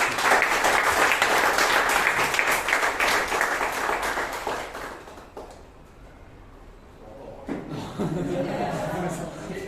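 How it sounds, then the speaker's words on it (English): Applause at a Toastmasters meeting in Bangalore, dense clapping for several seconds that fades out, followed by a speaker talking. "So please give him a big round of applause."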